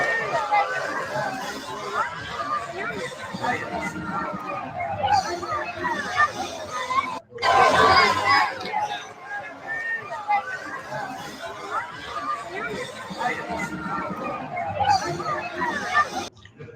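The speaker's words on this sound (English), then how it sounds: "Well, it's a packed crowd, I see." A packed crowd at an FAU team game in New York chatters in a dense, continuous babble of many voices, with occasional laughter and a short louder burst midway.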